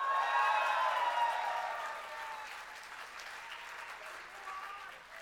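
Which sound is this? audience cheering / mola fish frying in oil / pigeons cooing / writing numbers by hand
audience cheering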